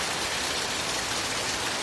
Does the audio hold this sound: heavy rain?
yes